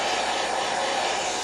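A hair dryer blows steadily for a drying pass over a creative journaling page, a continuous close, loud airy roar with no pauses and no voices.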